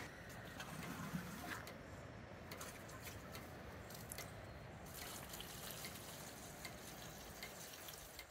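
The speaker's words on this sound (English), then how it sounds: "So what we're doing here is we're adding the water." Water is poured onto a fermenting plant solution on a self-sufficient homestead. A soft, steady trickle and splash runs throughout with faint drips, quiet and close.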